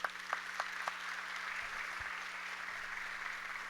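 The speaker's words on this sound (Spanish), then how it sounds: "al destacado escritor Efraín Castillo, para quien tributamos otro fuerte aplauso." Sustained applause from an audience at a national literature award ceremony fills the clip, a steady dense clatter of many hands at moderate distance with no voices over it.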